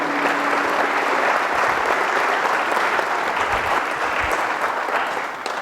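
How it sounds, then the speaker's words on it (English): Sustained applause from a large audience at a 2019 Perth-Wellington federal all-candidates debate, steady and loud throughout, fading slightly at the very end. "Ladies and gentlemen, a round of applause for Eddie Matthews."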